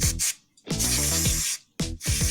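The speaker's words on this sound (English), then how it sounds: "So I'm just spraying down the top of the carb" Carb cleaner is sprayed on a Polini CP21 carburettor in three close, loud hissing bursts, the longest lasting almost a second, separated by short pauses.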